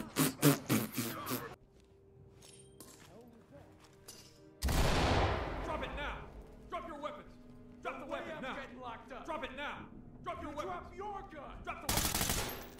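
Rapid bursts of gunfire in a SWAT video game: a loud volley of sharp, repeated shots opens the stretch and another bursts out at the end, with people talking in between.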